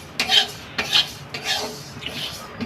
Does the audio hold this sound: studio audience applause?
no